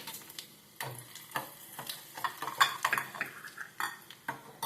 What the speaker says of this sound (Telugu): చూసారా తాలింపు ఎలా వేగుతుందో చిటపట చిటపట సౌండ్ చాలా బాగుంటుంది